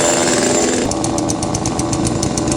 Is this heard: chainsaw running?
yes